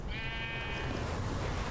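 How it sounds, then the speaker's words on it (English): A sheep bleats in the Minecraft video game, one wavering game-style bleat sounding clearly over a low, steady background. "Hey, the sheep has returned."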